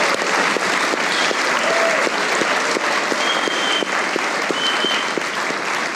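Loud, continuous audience applause for a singer on a Pakistani comedy talk show, a thick wall of clapping with a few faint whistles riding over it.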